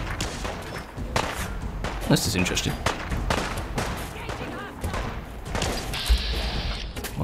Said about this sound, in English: Bit of an explosion going on.